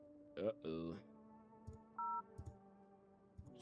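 A phone number is dialed in the No I'm Not A Human video game: a few quick keypad tones in uneven succession, clear and close, with short clicks between them and a faint background hum.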